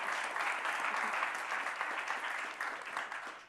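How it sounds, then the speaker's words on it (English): An audience at a climate conference applauds a panel discussion, a steady dense wash of clapping that stays fairly even and soft before tapering slightly at the end, with no talking. "Please give a round of applause to our amazing panel"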